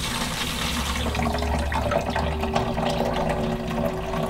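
Steady rushing water draining from a reservoir with a pump running, a continuous close flow with a low hum and a faint rising tone underneath.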